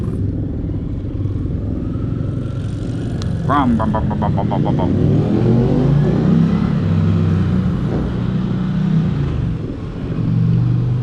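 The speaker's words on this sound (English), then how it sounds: "I'm riding the Indian Challenger Limited." Loud, continuous engine and wind roar from a heavy Indian Challenger Limited motorcycle while riding, with a rising rev partway through and a rider's voice faintly mixed into the rumble.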